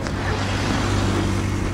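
Cars pass in city street traffic on a winter day, a continuous low rumble of engines and tyres with gusty wind buffeting the microphone, heard close and fairly loud without clear speech.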